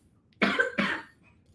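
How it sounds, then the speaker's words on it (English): A person coughs twice in quick succession, close and fairly loud, against a quiet room during a live comic book shopping show. "Cough, cough, cough."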